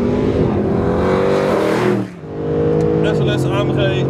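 A Mercedes-Benz SLS AMG engine revs hard, climbing in pitch, then dips sharply at a gear change before pulling strongly again; loud and close, with a voice talking over it.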